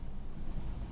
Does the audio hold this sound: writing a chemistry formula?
yes